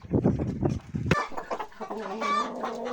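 Broody hens cluck close by in a farm setting, a burst of low, rapid clucks giving way to softer, drawn-out brooding calls and murmurs.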